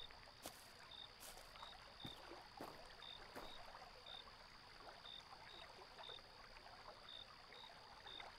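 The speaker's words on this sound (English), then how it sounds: "Hear a creek." A creek in a video game flows with a steady soft rush of water, a faint continuous background wash with small trickling detail and occasional light clicks.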